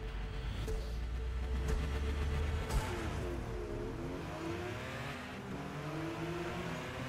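A race car in Forza Motorsport, driven from the in-car view during a single lap, gives off a steady engine drone that rises and falls in pitch through gear changes. It is faint and continuous, with no speech.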